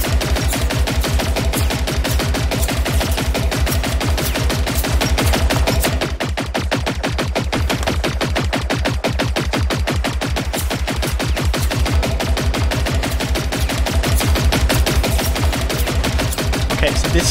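A machine gun fires without pause in the video game Generation Zero. Loud, rapid, evenly spaced shots hammer on for the whole stretch, with no voices over them.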